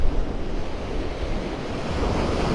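Surf breaking on a Gulf of Mexico beach at Vanderbilt Beach in North Naples, Florida, with onshore wind, a steady close roar of waves and gusty wind buffeting the microphone, no voices.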